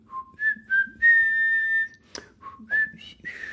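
Tuneful whistling from a music clip, a short melodic phrase of clear sustained notes with brief pauses and a sharp click midway.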